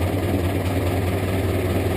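A farm tractor runs steadily in low gear while backing up to hitch a three-point disc, its deep engine rumble loud, close and continuous.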